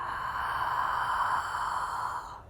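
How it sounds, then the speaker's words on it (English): A long, open-mouthed breath of the ocean-breath kind, a soft, steady airy whoosh that lasts about two seconds before tapering off, close and quiet, with no voice over it. "it almost sounds like an ocean wave. It's also called the ocean breath."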